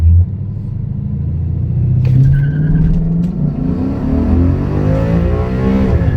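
A 2015 Ford Mustang with a 6R80 automatic transmission launches hard off the foot brake on asphalt, a loud low engine roar building steadily over several seconds with a brief higher squeal partway through.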